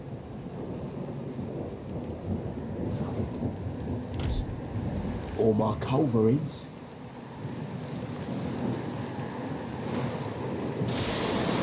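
A thunderstorm at sea in the Red Dead Online video game: deep rolling thunder and steady heavy rain, with a brief louder crack near the middle, all running beneath a man's speech.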